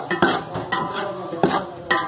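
Semolina slowly roasting in a pan for jaggery halwa, stirred with a utensil that scrapes and clinks against the metal in four evenly spaced strokes, close and moderately loud with no voices.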